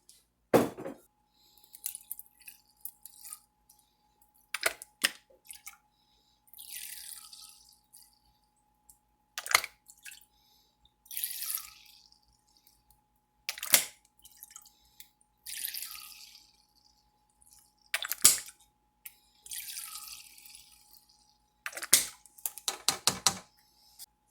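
Lime juice measured out by the tablespoon for a vintage key lime pie, with repeated short clicks and knocks of spoon against glass and brief liquid trickles in between, close and quiet, no talk.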